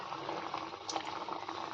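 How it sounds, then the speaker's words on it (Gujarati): Kachori frying in hot oil in a kadai, a continuous close bubbling sizzle with soft crackles, steady and alone for the short stretch. "તેલ ગરમ થઈ ગયું છે। હવે આપણે એની અંદર એક એક કરતાં કચોરી ઉમેરી દઈશું"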